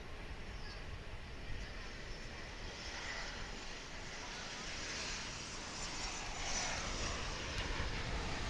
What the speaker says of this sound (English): I believe this is American Airlines Flight 353 on its way to Puerto Vallarta in Mexico.